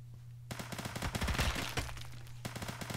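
Rapid bursts of game gunfire from a Roblox weapon, with repeated sharp shots clustering in the middle and starting again near the end over a steady low hum, close and loud.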